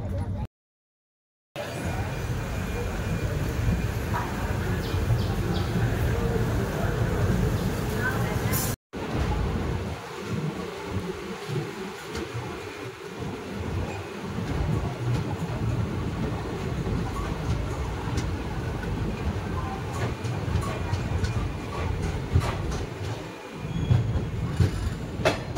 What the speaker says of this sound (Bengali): আধা ঘন্টা লেটে করিমগঞ্জ থেকে আমরা ট্রেন ছাড়লো।